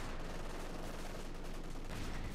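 Soviet Maxim machine gun chatters in Company of Heroes 2, a faint, steady stream of rapid fire buried in a dense wash of battle noise throughout the short burst.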